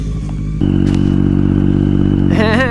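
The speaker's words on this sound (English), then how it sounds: "Shout out Miguel, let me ride his bike here." A Triumph Daytona 675 sport motorcycle being ridden outdoors, its engine droning steadily and loudly close by, rising in pitch toward the end as it revs up.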